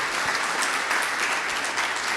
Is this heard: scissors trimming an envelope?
no